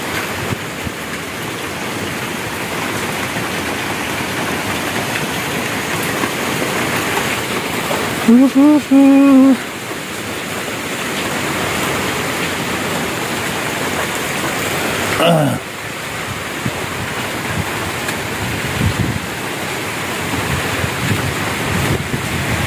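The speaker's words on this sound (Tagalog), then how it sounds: "Sobrang lakas ng hangin naputol yung puno ng avocado." Loud, gusty wind strong enough to snap an avocado tree roars steadily against the microphone, with rushing noise throughout and a brief voice-like sound partway through.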